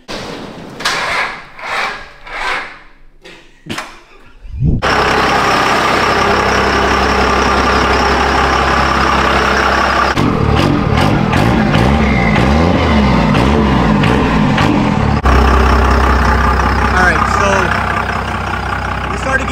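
A compound Cummins diesel truck engine runs on a road test, a loud, steady close drone that shifts in tone partway through, after a few brief sounds at the start.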